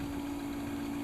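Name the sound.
turntable motor running on vintage Airline record player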